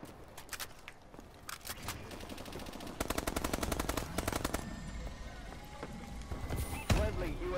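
Atlas 20mm rifle gunfire in an online shooter game, with rapid bursts of close, loud shots in rhythmic volleys, separated by short pauses and distant game sounds.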